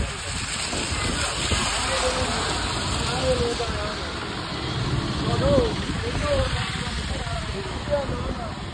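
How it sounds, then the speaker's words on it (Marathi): Continuous rain falling in Ooty, a steady broad wash of drizzle over a low rumble of nearby traffic and an engine, with faint voices in the background. "कंटिन्यू पाऊस चालू आहे."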